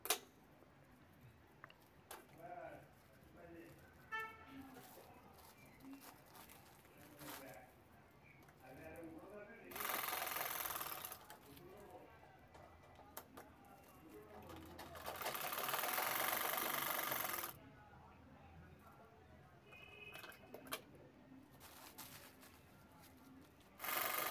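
Domestic sewing machine stitching the corners of a cloth shopping bag, with two sustained loud runs of rapid mechanical whirring close up, and someone talking quietly between them.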